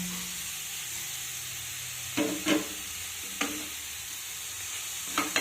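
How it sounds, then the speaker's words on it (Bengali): Leafy greens and fried eggplant sizzle steadily in a pan, with a few soft scraping stirs of a spatula over the constant frying hiss, close and moderately quiet. "বেগুনটা দিয়ে শাকটাকে বেগুনের সাথে খুব সুন্দরভাবে মিশিয়ে দিতে হবে"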